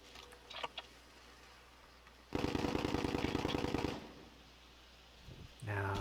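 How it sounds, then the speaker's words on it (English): Suppressed gunfire in the battle royale game Warzone, a rapid burst of muffled automatic shots lasting under two seconds, moderately loud amid quiet in-game ambience. "Now that was silenced gunfire."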